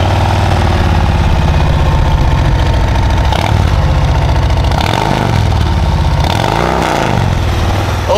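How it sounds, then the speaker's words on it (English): A 2022 Harley-Davidson Road Glide Limited with a Reinhardt exhaust, open air breathers and a stage one upgrade idles loudly and close, with a steady deep rumbling throb and slight shifts in pitch. "you do have a Reinhardt exhaust."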